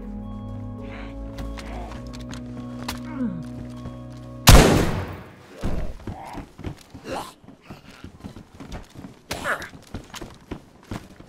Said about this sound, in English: I don't know if you heard that shot, Paul